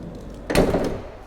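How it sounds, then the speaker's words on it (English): Door of a Knaus Boxstar 600 Street camper van opening, a single solid thud and slide at close range, followed by faint rustle and room tone. "We can open up the door"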